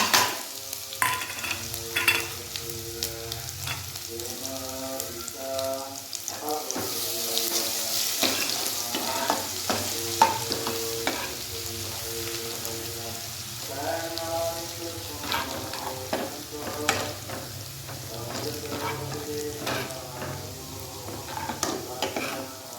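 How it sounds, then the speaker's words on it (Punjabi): Cumin seeds sizzling in hot oil in a home kitchen pan while being stirred, a continuous crackling fry broken by scraping spoon strokes and clattering, close and steady throughout. "ਹੁਣ ਤੇਲ ਹੋ ਗਿਆ ਚੰਗੀ ਤਰ੍ਹਾਂ ਗਰਮ ਹੁਣ ਪੈਦੇ ਵਿੱਚ ਪਾਉਣੇ ਆ ਜੀਰਾ"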